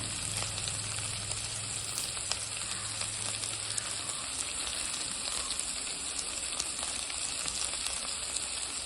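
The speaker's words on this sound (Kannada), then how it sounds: "ಎಲ್ಲವನ್ನು ಮಿಕ್ಸ್ ಮಾಡಿ ಒಂದು 5-10 ನಿಮಿಷ ಬೇಯಿಸ್ಕೊಳ್ಳಿ ಎಣ್ಣೆಯಲ್ಲೇ." Egg fried rice frying in oil in a pan gives a steady, moderately loud sizzle with faint bubbling that runs alone and unbroken throughout.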